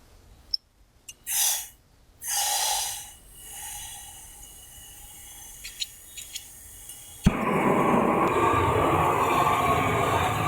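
A gas valve opened on an Old Country gravity feed smoker gives a sudden steady, broadband hiss that holds at an even level after some earlier faint breathy noises and small clicks.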